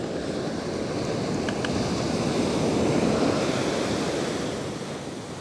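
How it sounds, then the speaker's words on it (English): Beach surf surging up the shore and sucking back in a strong backwash, a loud, continuous roar of churning water with wind noise, swelling in the middle and easing toward the end. "That surge is strong and it sucks back hard."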